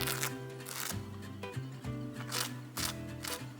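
Crisp buttered street toast crunches in several sharp, close bites at an uneven rhythm while it is eaten, with soft background music underneath.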